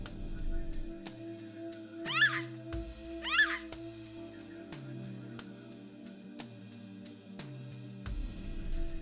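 In the video game Fear & Hunger 2: Termina, a cat gives two distinct short meows about a second apart. They sit clearly above a low, droning musical background, and a voice is barely present.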